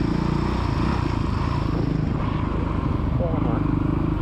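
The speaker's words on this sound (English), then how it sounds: "Come on, rev it, keep it going, rev it up." A kid's motocross bike engine on the Astley MX main track drones and buzzes loudly and steadily throughout, close by, with a voice calling out over it.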